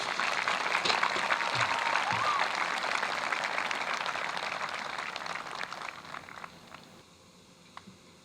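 Audience applause at a high school graduation ceremony, dense continuous clapping that holds steady and then thins out into a few scattered claps near the end.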